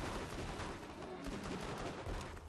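Incendiary pistol gunfire in the Borderlands 2 video game, a dense stream of rapid shots at steady high loudness with no talk.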